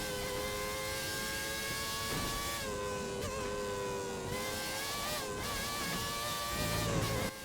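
A Formula 1 race car engine in the F1 2013 video game drones continuously at high revs, its whining tone shifting slightly with gear and throttle changes, loud and steady throughout.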